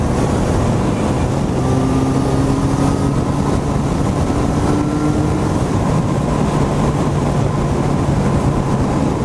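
Suzuki Bandit S 1250cc motorcycle engine droning steadily while riding, loud and continuous with heavy wind rush over the microphone and no talk.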